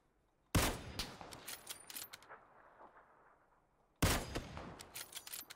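Gunfire in a first-person shooter video game, two loud sharp bursts of shots about three seconds apart, each trailing off into echoing decay, with no talking.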